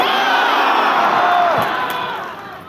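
Crowd at a political party rally, the closing of a national working meeting, cheering and shouting together in a loud, sustained roar that fades slightly toward the end.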